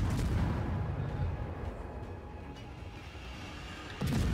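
Heavy naval guns firing in the warship video game World of Warships, a dense rumbling roar of booms that fades slowly, then a fresh sharp blast near the end, with no voices.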